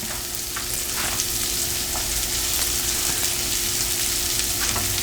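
Garlic frying in a pan over medium-high heat gives a steady, close crackling sizzle that runs the whole time, with faint scraping as it is stirred.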